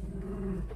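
A dog growls low and steady, close by, in one continuous rumble with no other voices.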